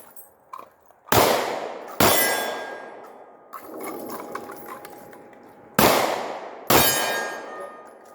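Four loud, sharp handgun shots fitted with a Holosun red-dot sight, spaced unevenly with each crack ringing and decaying, plus faint clicks and movement between them.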